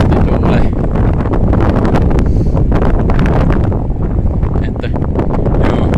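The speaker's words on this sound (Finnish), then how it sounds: "kun näin pahasti tuulee." Strong wind buffets a phone microphone outdoors on an evening walk, producing a loud, continuous roar with gusty rumbling that never lets up for the whole stretch.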